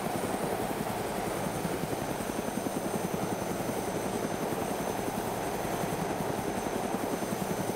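Steady helicopter rotor chop with a continuous engine whine in the video game DayZ, loud and constant throughout, with no voices.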